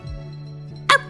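A human voice imitates a dog's yip with a single short, high, bright yelp near the end, over a steady low electronic hum.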